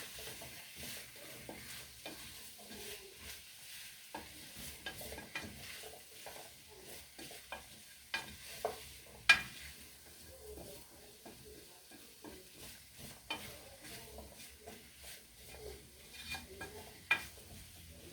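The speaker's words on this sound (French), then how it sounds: "Et on remue." Carrots simmering in a pan with homemade broth and a little salt are stirred, giving soft repeated scrapes and clicks of the spoon over a steady low sizzle, close and fairly quiet, with no talking.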